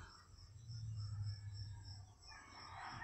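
Steady insect chirring of crickets at sunrise in a quiet rural morning, a continuous high buzz alongside a low droning hum, with a faint brighter rise near the end.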